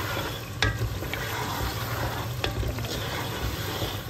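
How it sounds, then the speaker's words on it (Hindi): Meat fries in a pan with a continuous close sizzle, broken by a few sharp clicks of a utensil against the metal, with a low hum underneath and no talking. "मीट जो है वो अच्छे तरीके से भून चुके हैं"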